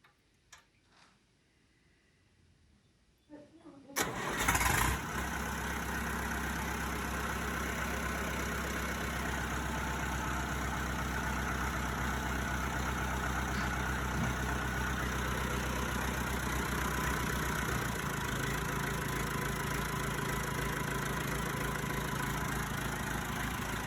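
A rebuilt 1976 Massey Ferguson tractor engine is test fired: a few quiet clicks, then it cranks and catches and settles into a loud, steady idle with a rhythmic knock that runs close by to the end.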